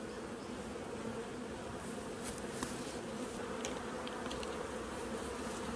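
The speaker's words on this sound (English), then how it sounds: "See how many forager bees pile up whenever that shirt's blocking for just a few minutes." A dense, steady hum of many honey bees buzzing close by at a hive during mite treatment, continuous throughout with faint crackles and brief higher whines from individual bees passing.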